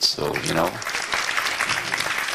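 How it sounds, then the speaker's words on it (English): Applause rises from the audience at a plenary debate session, a moderate wash of clapping that starts as a brief spoken remark ends and carries on to the close. "Why don't we give them an applause?"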